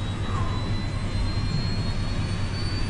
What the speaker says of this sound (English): taking the steps to fire up the second engine